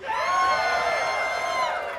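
A comedy show crowd cheers and whoops loudly in a sustained burst lasting about two seconds.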